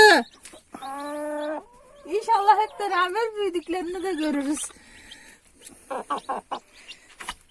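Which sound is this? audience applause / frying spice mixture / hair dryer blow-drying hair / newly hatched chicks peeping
newly hatched chicks peeping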